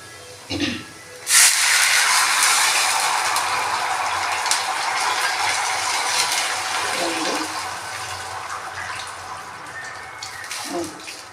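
Water poured into a hot pan hisses loudly while cooking moong dal and rice upma. The hiss starts with a sharp burst, then holds as a steady, dense roar of steam and sizzle that slowly eases, with a few brief knocks.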